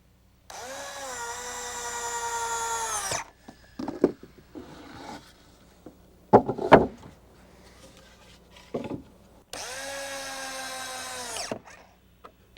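Power drill driving 3-inch corrosion-resistant screws into wooden deck balusters: two long, loud whirring bursts at the start and end, separated by quieter knocks and handling clatter.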